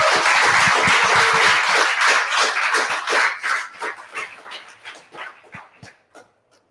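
An audience at a games industry talk event in Glasgow gives a round of applause, a loud dense clatter of many hands that thins into scattered individual claps and dies away to silence.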